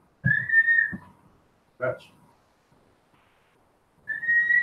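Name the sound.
person whistling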